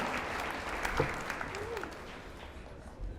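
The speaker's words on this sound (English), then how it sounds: "give them a hand, the folks that are doing the interviews" Applause from an awards ceremony audience cheering the student interviewers, a steady clapping crowd that holds throughout with a slight swell near the end and faint voices underneath.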